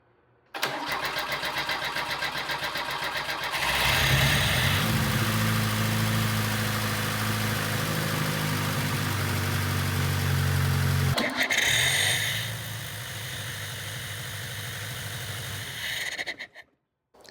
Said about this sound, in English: I tried cranking it over and you'll see that clip here